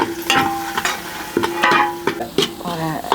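Masala, garlic, turmeric and red chilli being stirred in hot oil in a pan over a wood-fired stove, with close spoon scrapes and clinks over a soft sizzle.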